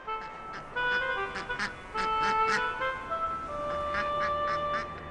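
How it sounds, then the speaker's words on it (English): Six little ducklings on a farm in a children's cartoon, giving repeated short quacks and honks in irregular bursts, close and fairly clear, with a tonal music or voice layer running beneath. "6 little ducklings."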